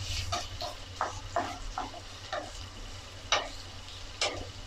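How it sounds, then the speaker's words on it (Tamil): A cup of onions fries in hot oil until brown for a chicken masala, with repeated spatula scrapes and stirs landing in an uneven rhythm over a soft, close sizzle and no talking. "அதை கொஞ்சம் நல்லா ப்ரௌன் கலரில் வர வரைக்கும் இதை வறுத்துக்கலாம்."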